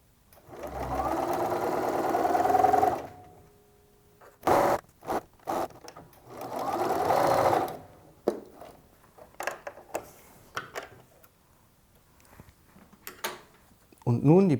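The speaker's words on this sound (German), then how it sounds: "senkt ihr wieder den Fuß und näht mit 1 cm den restlichen Saum ab" A sewing machine runs in two steady bursts stitching a skirt hem with lining, separated by clicks, fabric handling and brief talk.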